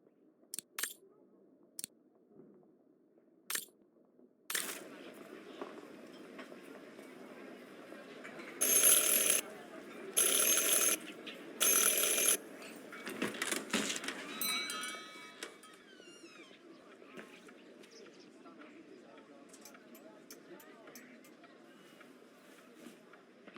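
In the game Syberia: The World Before, a doorbell rings three times in a row, sharp and bright, following scattered clicks and footsteps in a quiet room and leading into faint ambient sounds.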